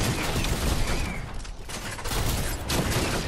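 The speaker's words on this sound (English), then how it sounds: "I hear you using the magic gun" Rapid, dense gunfire from a magic gun in a shooter video game, loud and continuous for a few seconds with a brief dip midway, with no talking.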